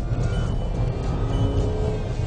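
A Volkswagen Tiguan with a 2-litre turbo engine accelerates, giving a steady low engine drone with road rumble heard from inside the cabin, holding at a constant level.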